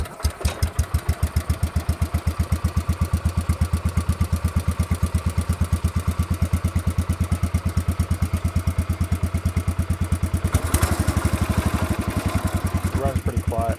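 A small engine runs steadily after a spark plug swap, putting out a loud, rapid, evenly pulsing putter close by, with a brief surge in roughness partway through and a voice talking over it.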